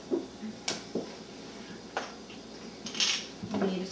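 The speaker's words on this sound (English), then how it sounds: "So just add that in and stir it around" A utensil scrapes and clinks against a pan while vegan white sauce is stirred, giving a few soft, irregular taps and scrapes over a quiet background.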